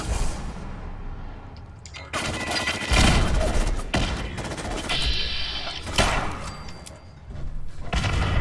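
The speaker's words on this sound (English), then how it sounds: "Oh, this is a sentry gun." A sentry gun fires in Fallout 4, with dense bursts of rapid gunfire and heavy impacts that come in loud waves with brief lulls between them.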